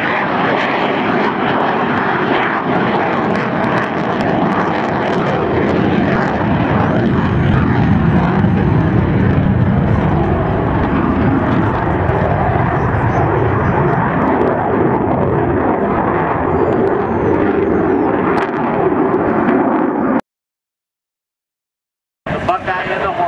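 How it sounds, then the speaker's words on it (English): A jet aircraft at an air show on maximum afterburner gives a loud, sustained roar lasting about twenty seconds before an abrupt silence. "selecting maximum afterburner and pitching the aircraft up to the vertical as he finishes the maneuver"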